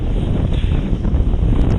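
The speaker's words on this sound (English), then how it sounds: "The wind's getting worse." Strong gusty wind at a kitesurfing spot buffets the microphone in a loud, continuous low roar with rapid fluttering pulses.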